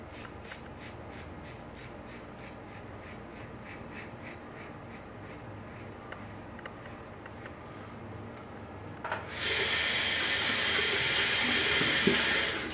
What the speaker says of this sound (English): This sink does not hold water in it, so I'm going to be running water from